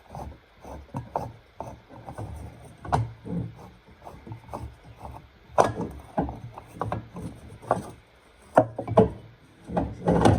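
Oil filter housing cap on a 200Tdi Land Rover Defender being unscrewed during a service, a run of close, uneven ratcheting and scraping clicks with metallic knocks, fairly loud and steady, with no talk.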